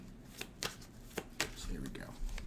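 A deck of playing cards shuffled by hand, several quick riffling bursts and soft slaps close by, with faint voice underneath.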